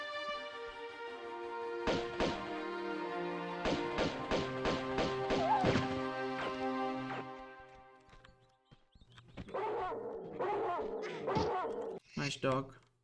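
A dog barks in the Tomb Raider 2 video game, a run of sharp repeated barks over steady game music, followed by further game sounds; someone talks nearby.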